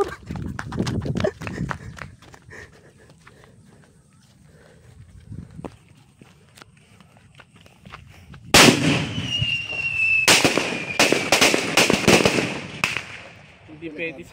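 A 200-round firework cake is test-fired in Bulacan, first with scattered sharp pops, then after a lull an abrupt dense volley of loud cracks and whistling bursts continuing to the end, with voices faintly in the background.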